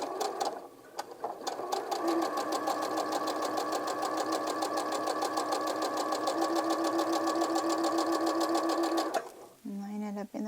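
A sewing machine runs a long continuous stitch down a drawn line across a quilt square, a close, steady rapid whirring chatter that stops abruptly near the end, with brief talk before and after.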